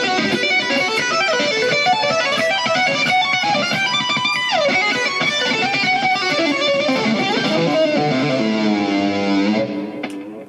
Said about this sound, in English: Sped up, it sounds like this.